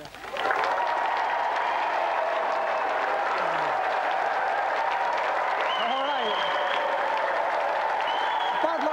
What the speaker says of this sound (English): Round of applause for E17.